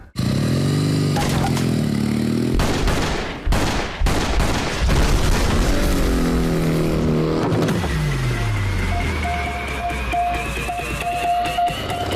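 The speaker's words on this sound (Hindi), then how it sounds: "इस पे 5 राउंड चलाना, और इसके लिए तो गोलियों की आवाज ही काफी है" Gunfire from a fired five-round burst sounds amid loud, dense action-movie audio, with roaring engines, sharp transient cracks around the middle, then a swelling vehicle drone and a whining tone toward the end.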